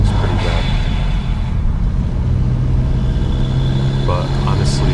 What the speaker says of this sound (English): the rev hang from first second is pretty bad